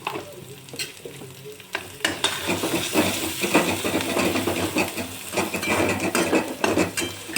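Paneer paratha filling being mixed with red chilli powder, coriander-cumin powder and salt: a steady scraping and stirring with light clattering, close and continuous, with no talking.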